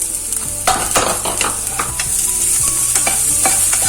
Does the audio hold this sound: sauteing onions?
yes